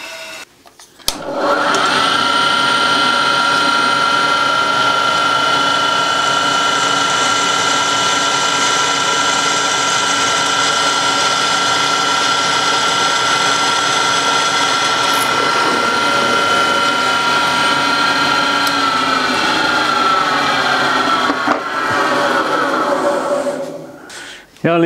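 A resharpened drill bit boring a test hole, running at steady full power for about twenty seconds with a constant whine and mechanical grinding, starting and stopping abruptly.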